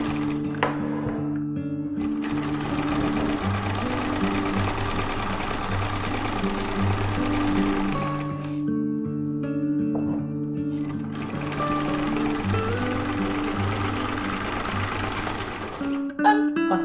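Sewing machine running in long steady bursts while stitching a patchwork tote bag with yellow quilting cotton thread, its hum pausing briefly between seams and stopping near the end, with no talk.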